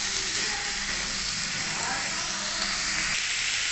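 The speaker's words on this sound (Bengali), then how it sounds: "আলু পটলগুলো আমার লাল লাল করে ভাজা হয়ে গেছে" Potatoes and pointed gourd frying in hot oil for a vegetable curry, giving a steady, close, even sizzling hiss with no break.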